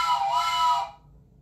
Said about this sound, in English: This is my train whistle. It's made out of wood.